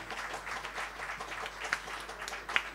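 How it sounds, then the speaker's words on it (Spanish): Faint, distant audience applause for musicians at a live music performance, a soft, steady patter of many hands lasting a few seconds with no clear voices over it. "Para quienes pido un aplauso, por favor, así nos vamos animando"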